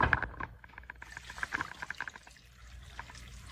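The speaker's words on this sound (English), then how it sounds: "I'm going to add a can of chicken broth, which won't be quite enough liquid, and I'm going to add a little bit of water to this." Chicken broth and a little water pour from a can into a cooking pot of rutabaga, a close, gurgling splash with a burst at the start and a steady trickle that fades out near the end.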